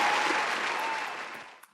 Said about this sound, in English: Why am I clapping for this?